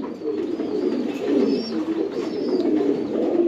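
Racing pigeons, a pair of Pakistani Teddy and Giribaz birds kept in a loft, coo steadily and close by, with soft overlapping calls forming a continuous murmur without pause.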